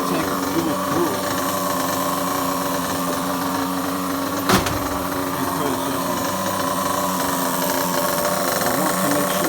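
Nitro engine of a Losi 8ight RTR RC buggy runs steadily and loudly throughout, a continuous high-pitched buzz with one brief sharp burst midway and a short spoken word over it.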